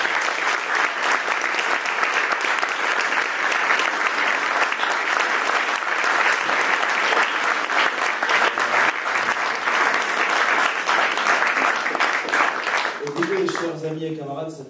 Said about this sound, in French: Je pense qu'on peut à nouveau l'applaudir.